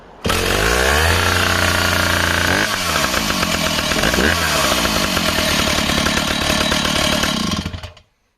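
A 1970s chainsaw, one of a Husqvarna 162SE, Rancher 61 or Stihl 04, runs loud and close at a steady high rev for about eight seconds. It holds a rough, even snarl and then cuts off.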